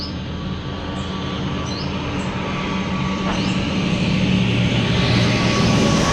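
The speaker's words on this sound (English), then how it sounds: "that one was just a quiet turboprop, not a proper big jet plane" A distant turboprop plane drones steadily and slowly grows louder as it comes in to land on Koh Samui, Thailand, a smooth engine hum against a quiet outdoor background.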